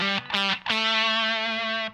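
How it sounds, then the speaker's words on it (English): A fuzz pedal clips a sine-wave guitar tone into a buzzy, squared-off sound: two short plucked notes, then one note sustained for about a second before it cuts off. The tone is loud and full of harmonics, and it plays alone. "The sine wave is clipping really hard, and you can hear that it's getting a lot more of that fuzzy tone."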